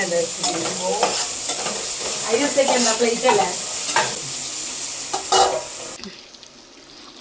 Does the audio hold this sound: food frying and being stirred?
yes